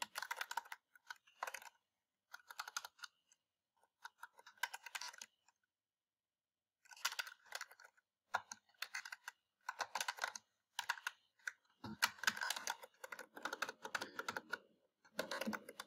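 Someone types on a computer keyboard in fast bursts of clicking keystrokes that stop and start with short pauses, close and fairly loud, with no talking.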